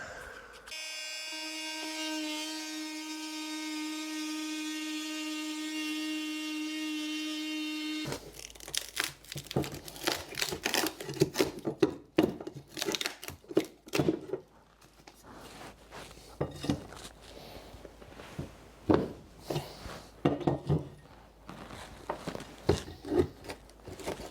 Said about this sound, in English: Then I'm going to use one of these oscillating multi-tools to cut out a little section of the subfloor.